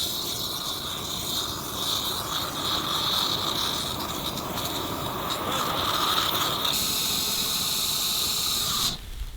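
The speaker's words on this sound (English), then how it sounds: "The bacon grease is on fire." Bacon grease burning on a fire, a steady loud hiss with a rough crackling texture running continuously for about nine seconds, then cutting off abruptly at the end, with no voices.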